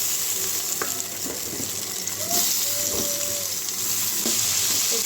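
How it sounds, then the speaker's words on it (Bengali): Potato and eggplant frying in hot oil, a steady soft sizzle running throughout with a few faint clinks and light background sounds. "এখন আমি আলু বেগুনটাও ভেজে নিব।"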